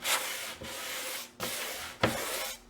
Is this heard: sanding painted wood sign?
yes